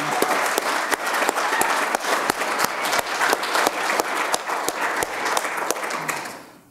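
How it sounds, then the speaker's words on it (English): An audience at a conference applauds with dense, steady clapping that stays loud and even for several seconds before tapering off at the end. "And can we get one more round of applause for Ivan"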